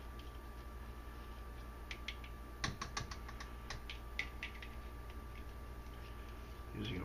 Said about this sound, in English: Using a whisk was stupid.